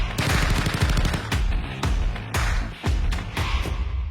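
Loud, rapid gunfire bursts hammer out in quick repeated volleys with brief gaps, a punchy sound effect marking the start of a rapid-fire question round.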